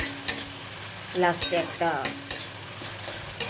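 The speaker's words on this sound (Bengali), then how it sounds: "এটাকে আমি মশলাটাকে ভালো করে কষিয়ে নিই।" Spice paste being sautéed in a pan for catfish curry: a low sizzle under sharp scraping and clanking spatula strokes against the pan, close and intermittent, with brief speech in the middle.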